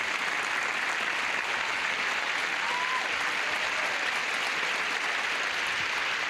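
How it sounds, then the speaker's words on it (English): Steady, dense applause from a game show studio audience, even and sustained throughout with no voices over it. "Let's have a nice round of applause for these people."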